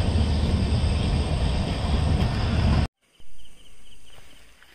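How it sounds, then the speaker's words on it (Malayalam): A train pulls away from Mookambika Road Byndoor station with a loud, steady rolling rumble that cuts off abruptly, then returns fainter and more distant. "ആ ട്രെയിൻ ഇപ്പോൾ പോയിക്കൊണ്ടിരിക്കുകയാണ്."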